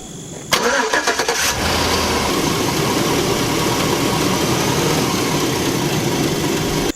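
A 2004 Chevy Tahoe engine with a newly replaced belt tensioner cranks in quick starter pulses, then fires and settles into a loud, steady idle that runs to the end.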